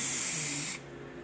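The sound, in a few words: spraying glue coat for MGA carpet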